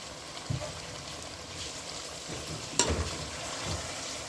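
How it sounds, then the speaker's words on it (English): Chicken frying in a pot for biryani, a quiet, steady sizzle with a few soft stirring knocks and one sharp clink. "my chicken was frying at least 10 minutes"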